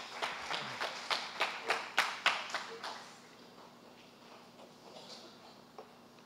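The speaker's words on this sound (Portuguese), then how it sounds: "Você sente aplaudindo o nome de Jesus?" A church congregation claps in rhythm, a run of about ten sharp, evenly spaced claps that swell and then stop abruptly, leaving a quiet room with faint scattered sounds.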